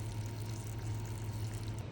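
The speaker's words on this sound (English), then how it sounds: "I'm gonna fill it up with some filtered water until my peanuts are a little bit more covered" Filtered water runs steadily from a tap into a pot of peanuts, a constant moderately loud filling rush with no talking.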